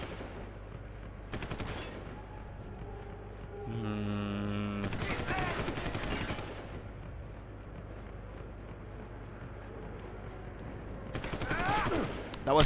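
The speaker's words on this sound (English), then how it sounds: "That was a frag grenade." A frag grenade bursts in Deus Ex: Human Revolution, Director's Cut on Wii U, one of several loud, sharp bangs and rattling blasts standing out over a steady low hum of game ambience.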